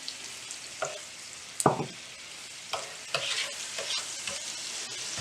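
Butter, honey and sugar cooking down into a syrup in a pan, a soft sizzle broken by several sharp scraping stirs and clinks of a utensil at irregular intervals.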